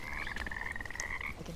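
Frogs croak in the video game Bramble: The Mountain King: a continuous, trilling croak rings out close and clear, with faint splashy ambience and a small blip in the background, no talking.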